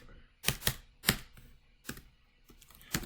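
Computer keyboard keys clatter in short irregular bursts of a few quick clicks each, close and fairly quiet, with pauses between groups as someone enters data.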